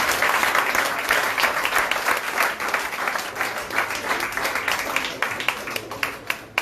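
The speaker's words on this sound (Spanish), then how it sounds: "Puede dar un aplauso al Señor." A church congregation applauds together, dense sustained clapping from many hands filling the room steadily from start to finish.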